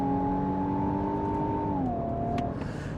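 Nissan Armada NISMO V6 engine pulling hard at full throttle in third gear in sport mode, a loud, steady rising drone with a downshift-like pitch drop near the end, continuous and close with no talking.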